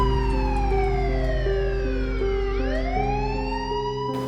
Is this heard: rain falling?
no